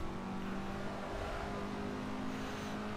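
A race car engine at Goodwood in a sim racing game hums in a steady, droning tone, holding constant pitch at moderate volume without sharp revving.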